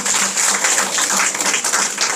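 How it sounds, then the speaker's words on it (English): Audience applause at a reflection session of a 30-day English language teaching course in Bengaluru, steady dense clapping from a room of people, fairly loud and continuous throughout. "But those people who have been working behind the scenes, they need a loud applause now at least."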